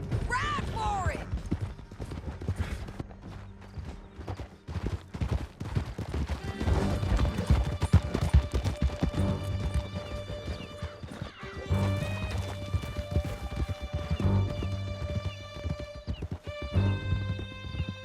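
Horses in Red Dead Redemption 2 galloping hard with rapid, dense hoofbeats and a whinny near the start, loud and close, with scattered shots and clanking in a canyon escape while voices call out.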